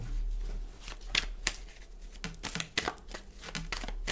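Tarot cards are shuffled and handled close by, with soft papery riffles, snaps and slides in irregular bursts over a quiet background.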